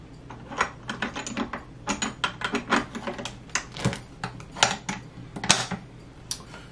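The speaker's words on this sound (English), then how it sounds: "Alright, bolt and bolt carrier back in." Metallic clicks and clatter of an SKS rifle's bolt and bolt carrier being fitted back into a Chinese SKS, a run of sharp, close mechanical knocks and scrapes spread unevenly over several seconds, with no talking.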